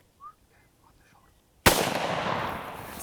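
A single sharp, loud hunting rifle shot cracks out after a quiet stretch of faint whispering, followed by a long rolling echo that slowly decays across open terrain.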